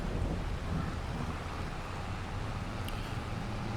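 Steady broadband rain hiss in Farming Simulator 22, falling on an Ohio Richlands farm map with a tractor parked out in the weather; continuous and even throughout, with no talk.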